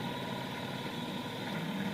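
A 1998 Tohatsu-built Nissan 3.5 outboard motor pushes a canoe on Lake Erie at barely any throttle, giving a steady, low, buzzing drone with a faint vibration and no breaks.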